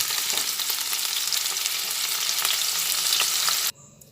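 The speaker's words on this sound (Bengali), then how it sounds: "একটু নাড়াচাড়া করে করে অল্প করে ভেজে নিচ্ছি" Pumpkin pieces fry in a pan with a continuous crackling sizzle, stirred and turned now and then, before the sound cuts off abruptly near the end. No one speaks.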